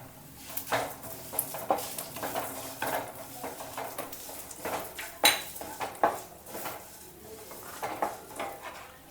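Green chillies fry in hot oil with grated coconut while a spoon stirs them, scraping and clinking against the pan in irregular bursts over a low sizzle.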